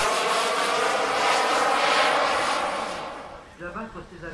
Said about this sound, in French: Passage vol et sortie pour faire la démonstration de l'important écart de vitesse dont est capable ce genre de jet modèle réduit